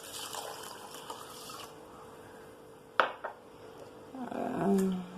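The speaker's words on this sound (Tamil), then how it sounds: "தண்ணி விட்டு நல்லா அலம்பிக்குங்க." Raw rice and split lentils are washed in water inside a pot, with soft sloshing and swishing, a sharp knock midway, then a louder splashing swirl near the end, close and fairly quiet.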